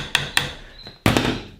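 Three sharp metallic hammer taps wedging a small part into a jaw harp being built, two close together then a louder one after a pause, with a faint ringing tone between.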